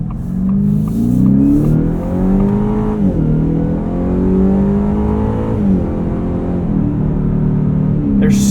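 A 2024 Ford F-150 Raptor R accelerates hard off-road, its loud engine note rising and falling as it climbs through the gears, close and continuous.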